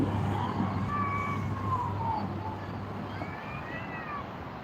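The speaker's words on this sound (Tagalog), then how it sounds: "Ang iring nag-uwag." A cat meows several drawn-out times, fairly close, outdoors at sunset over a low steady background hum.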